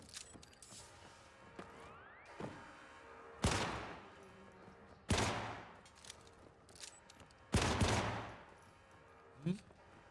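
Gunfire shooting glass in an Xbox 360 video game: several sharp, loud bursts of shots come at irregular intervals, each with a crashing tail, over faint mechanical creaks and background game sound.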